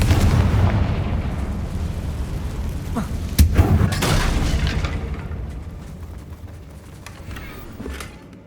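A Confringo blasting spell explodes in the game Hogwarts Legacy, a deep rumbling boom with a sharp crack at about three and a half seconds, then a long rolling decay that fades toward the end.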